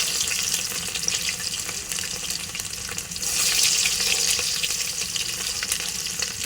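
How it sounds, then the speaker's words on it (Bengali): Green chilies and garlic frying in hot oil, a loud, continuous close sizzle that swells into a brighter, hissier burst partway through. "তেলটাও গরম হয়ে গেছে অনেক। এবার দিয়ে দিলাম কিছু কাঁচামরিচ চিড়ে দিছি, রসুন দিলাম"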